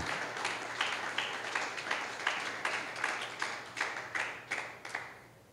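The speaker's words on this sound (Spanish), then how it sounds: "Dele un aplauso al Señor si usted quiere ser una iglesia con convicción." A church congregation applauds during a sermon, a steady run of claps that rises into a rhythmic pattern, filling the room at moderate loudness with no talk over it.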